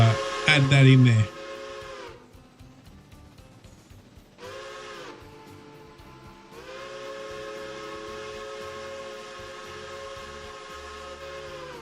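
A steam train whistle gives a short blast, then a longer held blast, over a steady hiss and low rumble, following a loud burst at the start.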